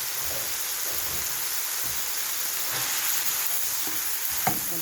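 Liver fries in a pan with black pepper and cumin, giving a constant dense sizzle like light rain, with faint stirring touches and one sharp utensil knock near the end; nobody speaks.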